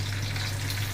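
Curry leaves and dried red chillies frying in hot oil, a continuous soft sizzle with a low steady hum underneath.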